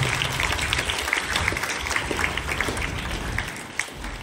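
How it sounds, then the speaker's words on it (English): Applause for newly elected student council leaders at a school investiture ceremony, a steady wash of clapping from a large crowd lasting throughout the clip. "Let us give a big round of applause for our school leaders and"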